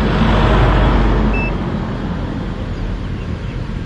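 Traffic noise from passing vehicles on a road, a steady loud rumble that swells near the start and then eases slightly, with a brief faint beep.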